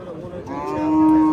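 A cow lets out a single loud, drawn-out moo at a busy cattle market, rising in pitch over a murmur of background noise.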